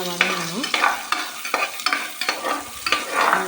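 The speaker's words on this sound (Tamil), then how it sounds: "நல்லா பொன்னிறமாகிற அளவுக்கு நல்லா வதக்கணும்" About twenty finely chopped small onions sauté in hot oil, a soft sizzle under repeated scraping strokes of a spoon stirring the pan at a steady rhythm.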